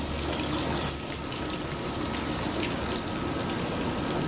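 Water gushes steadily into a beer mash during home brewing of a single-hop Mosaic double IPA, a loud, continuous splashing rush that stays constant throughout.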